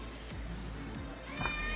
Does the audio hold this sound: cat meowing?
yes